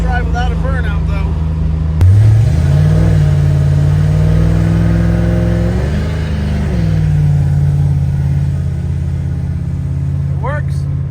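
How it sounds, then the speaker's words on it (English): A 1971 Dodge Charger with a 9.25 rear end doing a burnout: a loud V8 holds a sustained high rev with a sharp surge at the start and a dip midway, tire roar underneath, and a voice briefly heard near the end. "Wouldn't be a test drive without a burnout, though."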